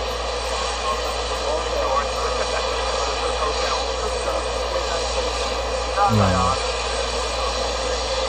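An airplane carrying Rodrigo Duterte touches down in the Netherlands, a loud, steady engine roar heard from nearby with a brief rumbling surge near the end, while a voice speaks over it.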